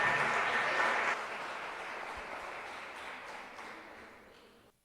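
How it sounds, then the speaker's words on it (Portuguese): Church congregation applauding, a dense, moderately quiet wash of clapping that gradually fades away over several seconds. "Aplauda bem forte ao Senhor."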